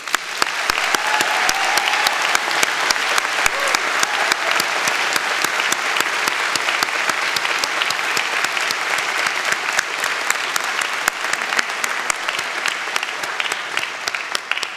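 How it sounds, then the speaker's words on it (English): Audience at a university convocation ceremony applauding, a loud, sustained, even wash of many hands clapping that continues without pause for about fifteen seconds. "Please join me in a round of applause."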